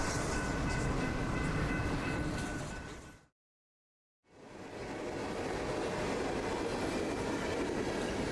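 A CSX Tropicana intermodal freight train rumbles past loud and close with steady broadband roar, cut by a sudden silent gap of about a second before the same heavy rolling noise resumes.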